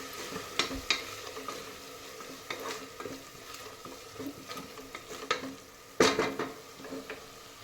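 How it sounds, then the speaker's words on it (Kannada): Ginger garlic paste sizzling as it fries in a pan, a steady soft crackle broken by repeated scraping stirs and clinks of the spoon against the pan, close and fairly quiet, with no talking. "ಇದು ಹಸಿ ವಾಸನೆ ಹೋಗೋವರೆಗೂ ಫ್ರೈ ಮಾಡಿ ಚೆನ್ನಾಗಿ"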